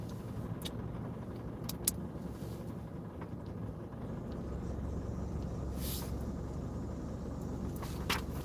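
A car heard from inside while driving, a steady low road and engine rumble throughout with a few faint clicks and rattles, no talking.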